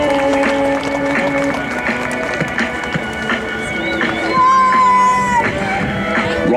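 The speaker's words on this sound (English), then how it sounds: "warm round of applause please" Airshow crowd applauding outdoors at the Avalon International Airshow night opening as parachutists carrying sparklers descend; steady broad clapping over a mix of tones and crowd noise, swelling slightly near the end.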